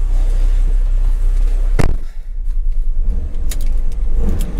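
A Dodge Ram SRT-10 pickup with a Viper V10 engine runs loud and close, with a deep rumbling idle, a sharp burst near the middle, then a choppy throttle blip with pops.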